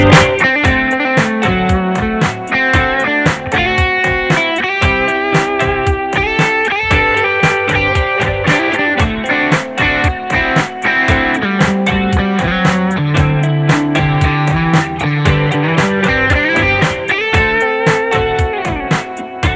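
A fast, continuous electric guitar solo of plucked notes plays over a steady rhythmic backing, bright and close, with a slightly effected tone.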